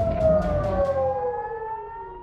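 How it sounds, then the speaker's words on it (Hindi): An air raid alert siren wails during an Iranian missile attack on Israel, a loud tone that slowly falls in pitch and fades after a brief rumble at the start. "ईरानी हमले से पूरे इजरायल में अलर्ट सायरन की गूंज और मिसाइलों की आवाज सुनाई दी गई"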